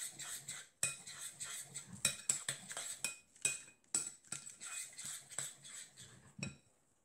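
Food colouring being mixed into lotion in a bowl, heard as quick, close clinking and scraping of a utensil against the bowl in irregular bursts with brief pauses, fairly faint, no talk.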